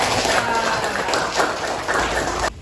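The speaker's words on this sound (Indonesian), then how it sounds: "Tepuk tangan untuk Anda." Students in a grade 4 Islamic studies classroom applaud together, a dense, steady wash of hand clapping that is close and loud, then stops abruptly near the end.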